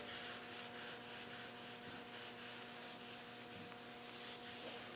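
Hand-rubbing the sliding window frame of a Land Rover Defender pick-up cab during refurbishment, a faint rhythmic abrasive swishing that repeats in even strokes at close range, with no voices.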